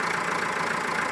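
A Massey Ferguson 362 four-wheel drive tractor with a low profile cab and front loader idles with a steady, even engine hum throughout the short stretch, no voices present.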